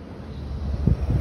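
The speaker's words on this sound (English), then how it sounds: "Got my weights, it's kind of windy." Wind gusts outdoors at a street setup, buffeting the microphone in a low rumbling rush that swells near the end, with no talk.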